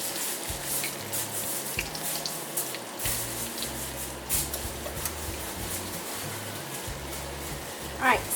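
Pork chops frying in hot grease in a pan, a continuous close crackle and sizzle that runs beneath a person's speech throughout, with a few louder pops and spatters near the end.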